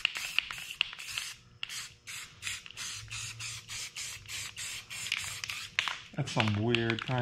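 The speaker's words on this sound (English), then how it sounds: "just spray paint them black" Bushings are spray painted black with an aerosol can, a rapid series of short hissing bursts with brief pauses between them, close and fairly quiet, ending with a louder rising whir and clatter.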